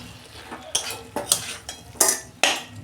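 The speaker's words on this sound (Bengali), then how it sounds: "আমি এবার সয়াবিনটা দিয়ে দিচ্ছি" Soybean chunks stirred into spice masala in a metal pan, a spoon scraping and clinking against the pan in several distinct strokes with a light sizzle underneath, close and fairly loud.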